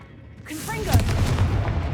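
A Confringo fire-blast spell explodes in Hogwarts Legacy, a loud booming burst that swells and rumbles for a moment after a short whoosh, with a voice speaking just before it.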